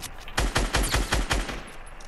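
Rapid automatic gunfire in the Fortnite battle royale game, a burst of about seven sharp, loud shots in quick rhythm, close by with no talking over it.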